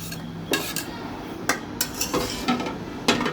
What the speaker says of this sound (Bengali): লতিগুলোকে ভালো করে নাড়াচাড়া দিয়ে মিক্স করব।